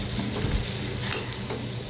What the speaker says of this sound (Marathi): तेल आहे, त्याच्यामध्ये आलं लसूण ठेचलेलं आहे, ते मी परतून घेणार आहे।